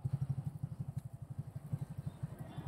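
A motorcycle engine runs with a steady, rapid low throb during a riding lesson at a bike training ground, close and fairly loud throughout.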